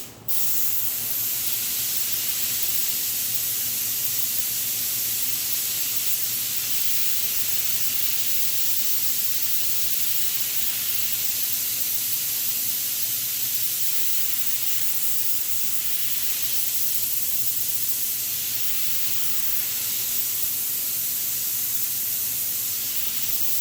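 An air hose blows a steady, loud hiss of compressed air over a river table, constant and unbroken for over twenty seconds after an abrupt start.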